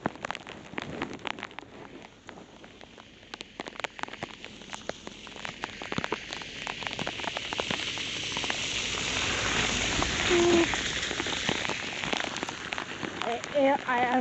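Steady rain falls while someone walks outdoors in a coat, a soft continuous patter with scattered drops that grows slightly heavier toward the end.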